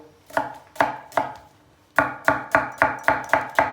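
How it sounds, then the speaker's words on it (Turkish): A knife chops a medium onion on a cutting board in crisp, evenly spaced strokes. Three come first, then after a short pause a faster run of six. "Hemen bir tane de orta boy soğan doğrayalım."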